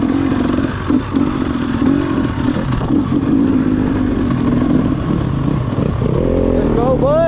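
A motocross bike engine runs loud and close, with a steady rough drone and some clattering. People talk over it, and a brief rising rev comes near the end.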